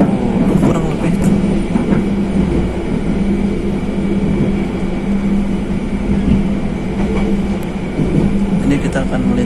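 Passenger train KA Pangandaran running on rails near Nagreg station, heard from inside as a loud, steady rumbling roar with a continuous low drone and occasional clatter.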